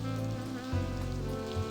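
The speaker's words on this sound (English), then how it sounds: "Sounds like it's raining." Rain falling in the video game The Blackwell Convergence, a soft patter heard alongside a low tonal musical drone, faint and continuous over the short stretch.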